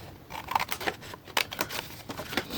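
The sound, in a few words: scissors cutting off paper envelope flaps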